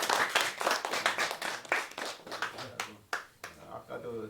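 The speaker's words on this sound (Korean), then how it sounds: "여러분 박수 한번 쳐주세요" An audience at a literary talk concert claps for a few seconds, a rapid scatter of hand claps with a voice speaking over it.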